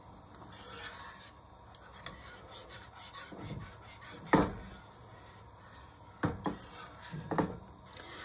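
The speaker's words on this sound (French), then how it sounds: "Je rajoute la crème liquide." Liquid cream being stirred into chicken in a pan, with soft scraping and rubbing strokes of a utensil against the pan, a few louder clinks and scrapes around the middle and end, steady and close with no talk.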